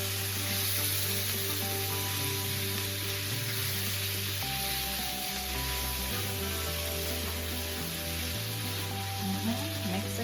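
Ackee and saltfish seasoned with black pepper sizzles steadily in a pan on the stove as it is stirred, a continuous close hiss over a low, steady hum.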